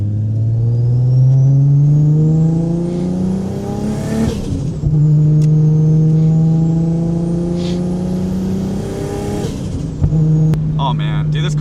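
A Nissan Skyline R32 sports car engine revs hard, pitch climbing and dropping in two long sweeping pulls, with a brief gear-change dip between them, loud and close.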